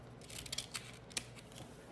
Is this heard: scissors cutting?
yes